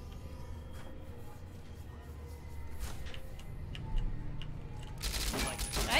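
Revolver gunfire in the video game Fallout New Vegas: a few sharp shots ring out at uneven intervals over a low, steady game backdrop, building to a louder, denser burst near the end.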